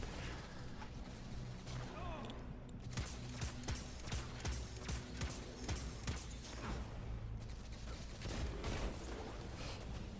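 Grenade launcher firing in Destiny 2, a rapid series of loud, punchy blasts and booming impacts repeating through the whole stretch, layered with whooshes and game noise.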